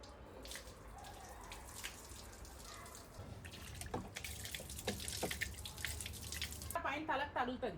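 Water being poured over potted plants in a small home garden space, a soft splashing and trickling with drips, faint and close, with a voice talking briefly near the end.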